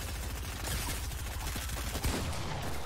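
Rapid bursts of automatic gunfire in the video game Fortnite, dense overlapping shots crackling continuously, fairly close and steady with a sharper report near the end.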